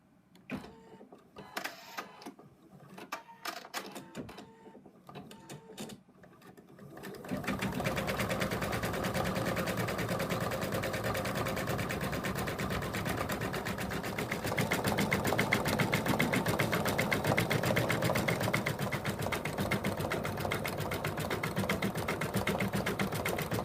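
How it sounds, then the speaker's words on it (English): An embroidery machine stitches the outline of bunny ears for an in-the-hoop Bella the Bunny project, a fast, continuous mechanical chatter that runs steadily once it starts, after an opening stretch of talking and scattered handling noises. "Put the hoop back into the machine, and the second color is going to stitch the shape of the ears."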